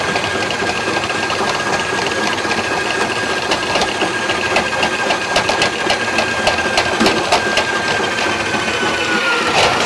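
A RIDGID K3800 drum machine spins its cable into a floor drain with a loud, steady motor whir and a fast clattering rattle that carries on throughout, broken by a few sharper ticks.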